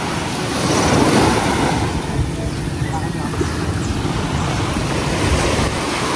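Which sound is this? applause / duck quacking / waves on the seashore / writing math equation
waves on the seashore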